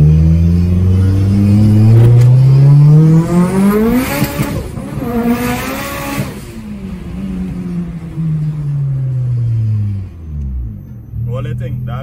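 A Mitsubishi Evo 4 on street tires does one loud, close test rev on the street. The engine climbs to a high pitch, holds briefly, then falls back to idle, and a voice talks over it.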